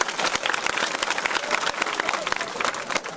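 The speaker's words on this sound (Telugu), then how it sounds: "ఒకసారి గట్టిగా చప్పట్లు కొట్టండి అయ్యా" A live audience claps loudly together in a dense, sustained burst of applause that fills the whole moment, with a faint crowd murmur underneath.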